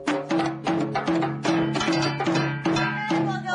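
A Korean samulnori ensemble of traditional percussion plays a loud, steady rhythm of struck drums and ringing metal gongs, with sharp hits landing roughly every half second and a sustained tone under them.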